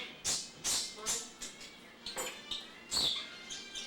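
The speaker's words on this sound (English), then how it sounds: "Those birds are going to sound really noisy on that camera." Birds chirp in short bright bursts, five or six quick calls spread unevenly across a few seconds, fairly close and moderately loud against a quiet background.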